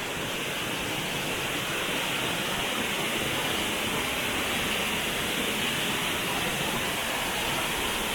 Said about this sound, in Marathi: आपण आता बघतोय कोकणातील सुप्रसिद्ध व्याघ्रेश्वर धबधबा आणि तुषार उडतात पाण्याचे आणि कसला प्रवाह बघा जबरदस्त